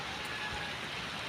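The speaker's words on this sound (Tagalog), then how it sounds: "Ayan ang ilog." Steady broadband rush of river water flowing just after heavy rain, a continuous hiss-like wash with no breaks or voices, fairly close and even throughout.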